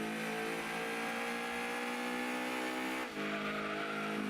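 Lancia Stratos racing engine in Gran Turismo 2 on the Laguna Seca endurance race, a loud, steady high-revving drone that holds its pitch, dips briefly for a gearshift near the end, then resumes at full power.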